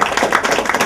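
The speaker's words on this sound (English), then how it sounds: "a big applause to the mechanical engineering branch" Guests at a college staff and student reunion clap for the mechanical engineering branch, a brief, moderately loud patter of scattered hand claps that starts and ends abruptly.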